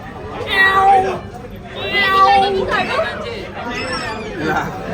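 A person imitates a cat, giving three drawn-out, wavering meows in a row, with other voices chattering nearby.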